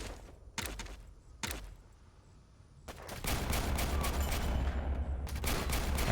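Bursts of machine gun fire from a soldier unit in the strategy video game Warpips: two short sharp volleys, then a quiet lull, then sustained dense rattling gunfire and explosions lasting to the end.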